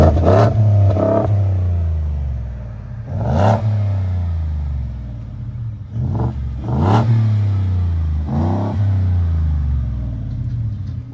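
A Ford F-150 pickup with a 5.0L Coyote V8 and Borla XR-1 Sportsman exhaust revs hard in repeated loud blips, each rising sharply and falling back into a deep burbling idle, close by.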